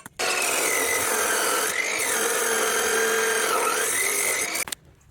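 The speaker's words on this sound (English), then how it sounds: "So I've got to cut the bar." A bar is cut for a home-built wind turbine, giving a close, steady grinding saw sound that runs about four seconds, its pitch dipping and rising as the cut goes on, with no talking.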